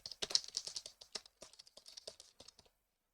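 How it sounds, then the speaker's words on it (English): Keys clatter on a computer keyboard in a run of quick, uneven taps for about two and a half seconds, fairly close and alone, then stop into silence. "Can you like hear the keyboard if I just start typing?"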